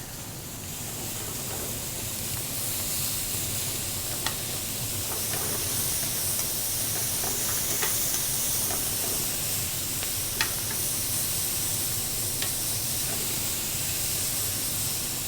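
Vegetables fry in a pan over high heat with a steady, dense sizzle and hiss throughout, broken by occasional sharp clicks and taps as they are stirred.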